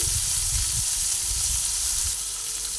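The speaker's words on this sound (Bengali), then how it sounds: "পেঁয়াজগুলোকে অল্প পরিমাণে ভেজে নেব" Onions fry in a pan with a steady, close sizzle and crackle of hot oil, plus a few low stirring bumps, and no talk.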